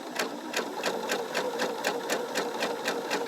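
A sewing machine chain stitches half square triangles in fabric, a fast, even, close-up rhythmic patter of needle strokes running continuously without any talking.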